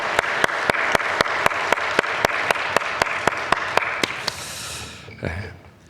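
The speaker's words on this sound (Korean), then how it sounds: "우리 영광의 박수 올려드리십시다" A church congregation applauds at a Sunday worship service, steady crowd clapping cut through by evenly spaced sharp claps in a regular beat; it fades after about four seconds, leaving a faint breath or snort.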